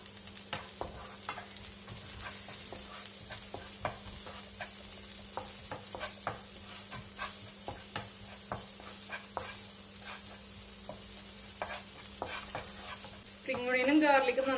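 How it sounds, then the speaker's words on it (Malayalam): Spring onion whites and garlic sauté in a pan, a soft steady sizzle broken by repeated stirring scrapes, with a brief louder burst at the very end. "സ്പ്രിംഗ് ഓണിയനും ഗാർലിക്കും നന്നായിട്ട് സോട്ട് ആയിട്ടുണ്ട്."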